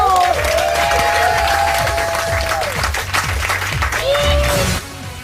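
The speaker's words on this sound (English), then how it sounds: "can we just give Daniel a massive round of applause?" A studio audience on a 2008 results show applauds and cheers for a contestant, a loud continuous roar of clapping with whistles and music over it, dropping off at the end.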